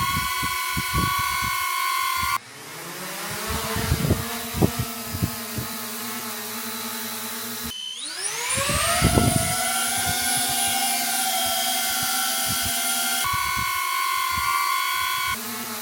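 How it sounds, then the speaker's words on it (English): Three DJI drones, a Mini 4 Pro, an Avata 2 and a Neo, take off in turn, each whirring up into a steady high-pitched propeller whine with a few clunks and taps between them, close and loud. "So we have the Mini 4 Pro, the Avata 2 and the Neo, just to give you an idea of what these sounds like on takeoff."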